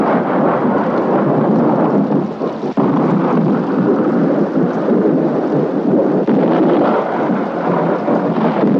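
A thunderstorm roars as a loud, continuous wash of rain and wind with deep rumbling underneath, steady throughout with no voices.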